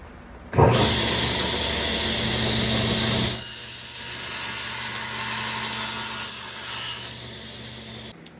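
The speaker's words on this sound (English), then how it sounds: "We'll go ahead and cut that on the table saw." Table saw ripping a wood piece for a sliding-lid box: motor spins up sharply, a loud whining cut with shifting pitch runs several seconds, then the blade winds down with a brief final knock.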